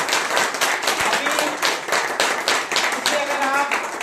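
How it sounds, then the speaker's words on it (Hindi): Audience clapping at a distributor training meeting, a steady burst of many hands filling the whole few seconds at close, fairly loud level. "उनके लिए कैसी क्लैपिंग होनी चाहिए?"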